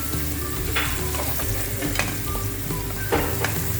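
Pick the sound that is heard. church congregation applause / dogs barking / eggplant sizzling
eggplant sizzling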